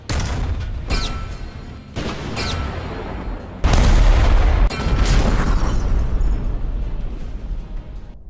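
Tank cannon fire from a custom LEGO tank: heavy booming blasts and explosions follow one another, loud and close, with a sustained rumbling roar in between.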